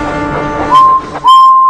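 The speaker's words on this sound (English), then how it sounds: "she whistled loudly" A cartoon steam engine on a children's railway show gives two loud, steady whistle blasts, the second longer, rising out of a busy musical background.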